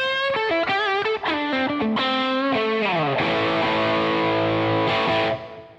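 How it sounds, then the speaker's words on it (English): Electric guitar through a Boss Blues Driver overdrive pedal plays a loud, gritty phrase of quick picked notes that resolves into a ringing sustained chord, which fades out at the end. "That's now the Blues Driver. It sounds like this."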